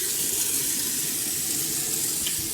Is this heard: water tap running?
yes